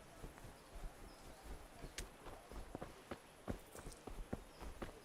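Horses walking in Kingdom Come: Deliverance, a soft irregular clip-clop of hoofbeats on the ground, faint and fairly close, with light ambient noise underneath.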